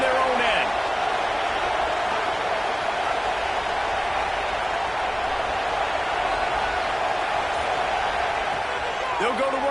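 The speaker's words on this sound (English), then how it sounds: "The roar of the crowd trying to fuel this defense to keep them pinned in their own end" Steady roar of a football stadium crowd, a dense sustained wash of noise filling the whole stretch at constant loudness, with faint commentary voices beneath.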